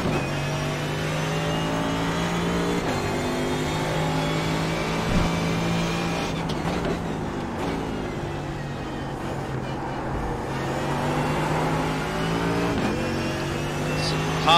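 A GT3 race car's V8 engine in a sim racing game at Donington drones loudly and continuously, its pitch climbing and dropping through gear changes and corners.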